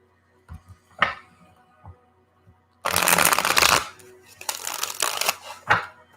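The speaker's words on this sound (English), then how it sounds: "I'm shuffling cards." A deck of tarot cards being shuffled close up, with a few soft taps and flicks, then two dense riffling bursts and a shorter final snap, all near and crisp in a quiet room.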